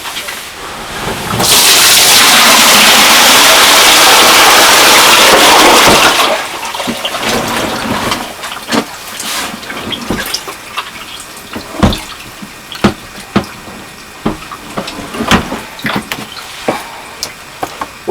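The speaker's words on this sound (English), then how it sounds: "When you pour the water out," Soapy laundry water gushes loudly for several seconds as a bathtub or storage bin of hand-washed clothes is tipped out, then gives way to scattered drips and trickles draining away.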